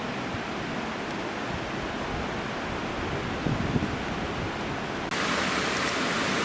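A creek flows beside a narrow trail at the foot of cliffs, a steady close rush of water that holds even and continuous, then swells slightly louder near the end.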